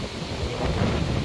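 Heavy tropical-storm rain pours down steadily with low rumbling thunder and gusting wind, a dense, loud wash of noise with no voices.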